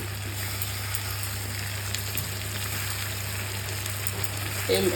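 Mustard-chili paste frying in a fish curry in a pan, a steady soft sizzle with a constant low hum underneath, faint and unbroken for the whole stretch.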